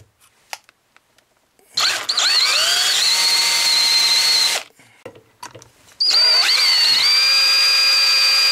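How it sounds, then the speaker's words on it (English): A power drill bores a small hole into the back of a lock to free a broken key, two sustained whining runs of a few seconds each, close and loud, separated by brief clicks and handling noise. "So we can drill a small hole."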